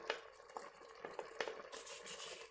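A spoon stirs garlic into liquid inside a Pampered Chef Quick Cooker, making soft, faint scraping and sloshing strokes in a loose rhythm, close by and without talk.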